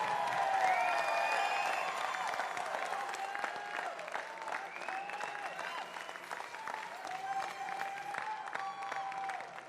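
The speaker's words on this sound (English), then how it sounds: "Round of applause from Canada, Pete Sova." An audience at a military powerlifting competition at the Warrior Games applauds steadily for about ten seconds. Many hands clap in a dense, even wash, with faint whistles and cheers scattered through it.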